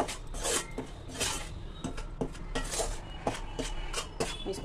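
Flour roasting in ghee in a pan over a low flame, stirred steadily with a spoon, giving repeated close scraping and rubbing strokes and light clinks against the metal, with no talking.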